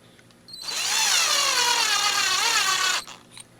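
A power drill fitted with a wire twisting tool tightens a wire nut onto wires, whirring loudly and steadily for about two and a half seconds with a wavering pitch, then stopping abruptly, close up with no talk.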